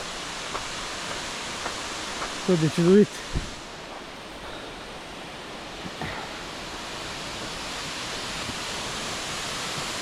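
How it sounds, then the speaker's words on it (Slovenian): The Malenšček waterfall gives a steady, full rush of falling water throughout, with someone speaking briefly near the start over the roar. "Evo, slap Malenšček,"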